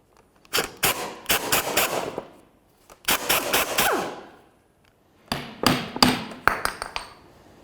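A tool works loose the rear shock mount nut on a 2008-13 Mazda 3 in loud, sharp rattling bursts of rapid impacts, three separate clusters with short pauses between, close and alone.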